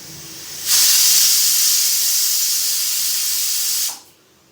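A kitchen pressure cooker cooking chickpeas lets out a loud, steady steam hiss that starts abruptly, holds for about three seconds, then cuts off sharply into quiet.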